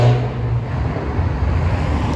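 A Bentley Bentayga SUV rolls past on a city street, a loud, close, steady broadband engine and tyre roar that holds for about two seconds.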